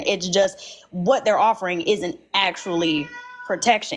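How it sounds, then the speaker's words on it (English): A house cat meows several times, close and clear, in short rising calls mixed in with a person talking. "Sorry, that was my cat, y'all."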